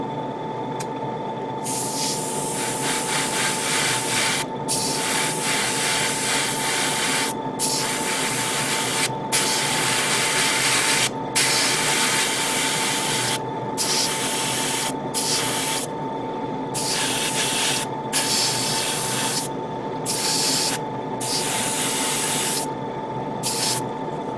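A continuous hiss of spray paint on a Gundam model kit part, steady and close, broken by several very brief pauses.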